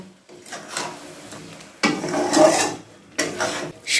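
Chicken masala with tomato and chili paste stirred in a pot for a dhaba-style curry, giving several bursts of scraping spoon-on-metal stirring separated by short pauses, close and fairly loud with no voices.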